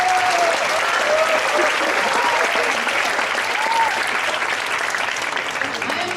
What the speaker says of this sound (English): I think all of you deserve a round of applause for your commendable efforts.